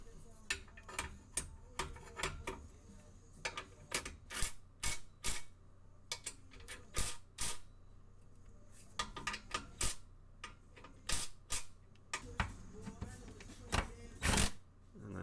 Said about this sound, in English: Came back with a ratchet on all these bolts